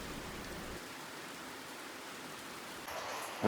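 Steady morning rain falls near a temple in Samse, a dense, even hiss throughout with a slight shift in texture near the end and a brief knock at the close.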